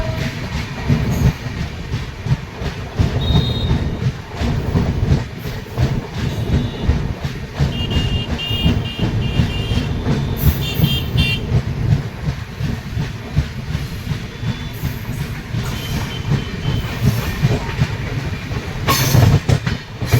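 The New Delhi–Malda Town Express rolls steadily out of Buxar, its wheels clattering rhythmically over rail joints under a constant rumble and faint hiss, heard up close from on board with no voices.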